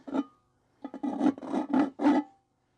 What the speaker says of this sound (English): I'll just run the file around underneath to take off any burrs.